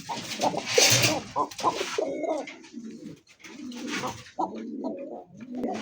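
A caged pigeon coos repeatedly in low, throaty rolling calls close by, while people talk over and between the calls.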